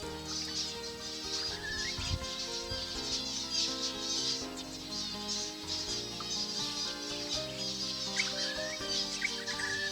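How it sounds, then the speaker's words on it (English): A flock of wild zebra finches, many of them young, perched in a tree above water, keep up dense overlapping chirps and nasal calls, with occasional soft wing flutters at moderate distance. "Just look at the number of young finches amongst this flock perched in this tree above water."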